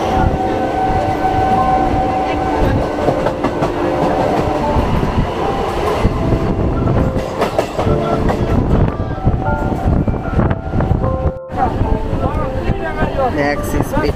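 An Indian Railways electric train runs on electrified track between Kolkata and the Gede border, heard from inside as a loud, steady rumble with rhythmic clickety-clack of wheels over rail joints, with some voices in the background.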